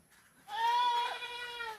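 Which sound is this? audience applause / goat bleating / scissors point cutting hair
goat bleating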